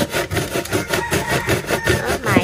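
Cassava is grated by hand for a duck curry dish, a rhythmic rasping scrape repeating in quick regular strokes, loud and close, with no talk over it.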